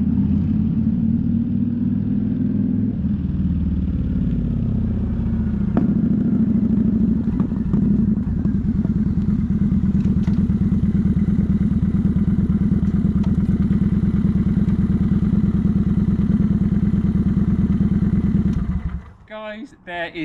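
A Kawasaki VN900 Vulcan motorcycle rumbles steadily while being ridden, its engine drone loud and continuous with a low throb and road noise throughout, cutting off near the end.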